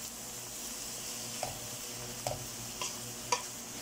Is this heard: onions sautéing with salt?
yes